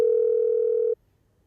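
A phone line disconnecting on a call, leaving a single steady dial tone that holds for about a second and then stops abruptly.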